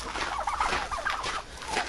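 Several turkeys gobble and chatter close by on a farmyard in rapid, overlapping bursts.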